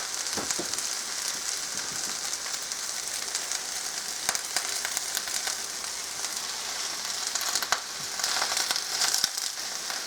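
Cabbage fries in a cast iron pan with a steady, even sizzle and crackle. It carries on without a break, and a few louder pops and stirring scrapes stand out.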